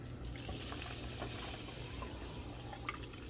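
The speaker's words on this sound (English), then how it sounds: "All 4 cups of water in there" Four cups of water pour into a pot of rice, a steady rushing splash that runs evenly and close up for a few seconds with no talk over it.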